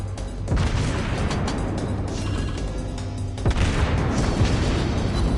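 Naval guns fire and shells strike an enemy ship in World of Warships Blitz, with two heavy booms, one near the start and one past the midpoint, over a constant low engine and ambient rumble.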